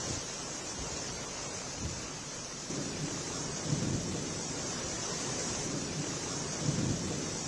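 Steady heavy after-midnight rain in Delhi hisses throughout, with low rumbles of distant thunder rolling underneath.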